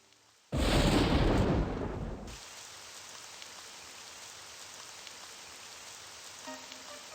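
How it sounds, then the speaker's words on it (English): Rain falls in a loud burst for about two seconds, a dense broadband hiss that then drops to a faint, steady patter for the rest of the stretch. "It's raining."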